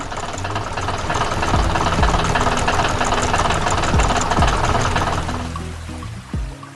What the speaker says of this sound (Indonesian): traktor kecil berwarna kuning berjalan dengan hati-hati di tengah kebun bunga yang cerah